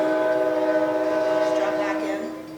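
A train passes outside during a community speaker series talk, its steady tonal horn-like drone and rumble filling the room, loud and sustained, then fading slightly toward the end.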